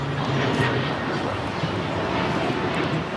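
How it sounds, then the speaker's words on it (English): Breeze Airways Airbus A220-300 jet taking off from runway 25 right at Los Angeles International Airport, a steady broadband engine roar that holds loud and unbroken throughout. "535 taking off to Richmond on the A220-300"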